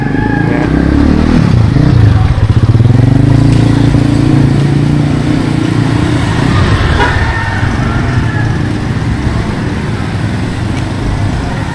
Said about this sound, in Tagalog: Maraming mga motor dito